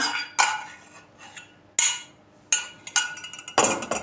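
Pie batter stirred in a bowl after sunflower oil and melted butter are added, making several sharp clinks and scrapes of the utensil against the bowl with pauses between them and no one talking.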